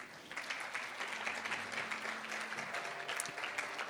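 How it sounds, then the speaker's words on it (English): Distant, quiet applause from the audience at a 2022 leadership summit in Singapore greets the panelists, a soft continuous patter of hands with a faint tonal murmur underneath. "so let's give them a round of applause, shall we?"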